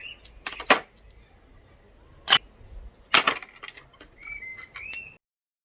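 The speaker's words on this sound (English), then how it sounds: "We'll add some ice in there." Ice cubes drop into a glass being readied for a virgin mojito outdoors in a garden, giving a few sharp clinks spaced apart, with faint birdsong chirping in the background.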